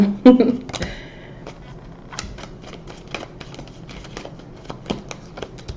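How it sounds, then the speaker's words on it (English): Tarot cards are shuffled and riffled close up, giving a run of quick, crisp clicks and flutters with brief pauses between bursts. "Y'all saw me shuffling them cards."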